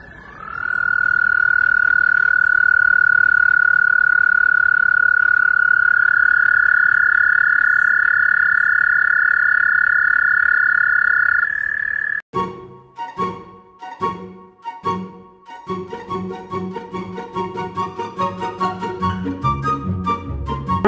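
A toad gives a long, steady, high trill that holds for roughly twelve seconds and then breaks off abruptly, followed by unrelated music.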